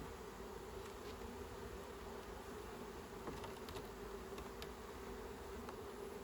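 A swarm of honey bees drones in a dense, unbroken buzz around a hive, steady and even in level for several seconds with no talking.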